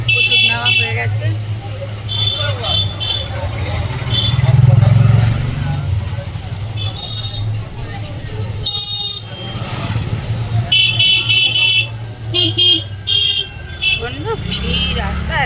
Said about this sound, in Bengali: ভিড় রাস্তায়, গাড়ি, টোটো আর মোটর বাইক